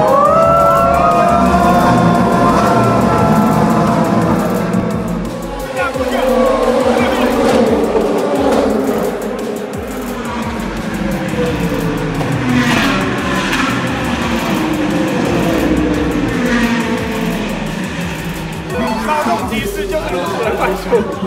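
Race cars roar past a grandstand during a 24-hour endurance race, loud engine noise fading away while spectators chatter around.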